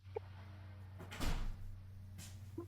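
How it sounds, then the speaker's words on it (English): A door is pushed shut indoors, a single soft thud with a brief rattle near the middle, followed by a quieter knock, over a low steady hum in an otherwise quiet room. "Hold on a second, I gotta close the door."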